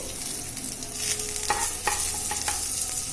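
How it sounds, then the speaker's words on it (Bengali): Ginger frying on a low flame in a pan while being stirred, a continuous close sizzle broken by several distinct metallic scrapes and taps of the spoon. "আমি গ্যাসটা লো করে রেখেছি, কারণ বেশি করলে ওটা পুড়ে যেতে পারে, তাই আদাটা হালকা করে ভেজে নেব"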